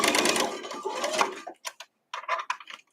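A sewing machine misbehaving despite a new needle while stitching a quilt block: a dense, loud mechanical whirr for about a second and a half, then stops and restarts in short, uneven bursts.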